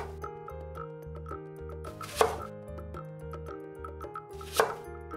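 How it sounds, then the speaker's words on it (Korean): A knife chops through pineapple pieces on a cutting board while preparing fruit-sweetened galbi-jjim, giving two sharp, separate cuts over steady background music. "파인애플 세 조각도 잘라줍니다"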